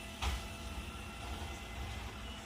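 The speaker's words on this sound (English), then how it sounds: "the trash truck is coming" Garbage truck approaching outside beyond open doors, a faint low rumble with a short clank near the start, distant and continuous.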